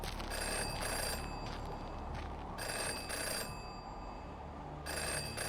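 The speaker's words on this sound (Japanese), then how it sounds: "あ、電話。" In the video game Jenny LeClue, a telephone rings in repeated bursts of bright electronic trilling separated by short pauses, moderately loud against a quiet background.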